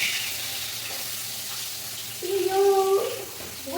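Fish frying in a pan in a home kitchen, a steady close sizzling hiss throughout, with a brief tonal voice-like sound rising over it near the end.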